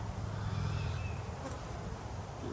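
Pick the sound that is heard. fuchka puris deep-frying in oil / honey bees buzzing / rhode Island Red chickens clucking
honey bees buzzing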